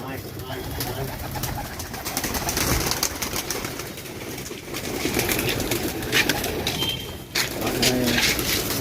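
Pigeons at a pigeon farm in Nabadwip cooing nearby amid rustling and occasional wing flaps as they are released, with people talking in the background.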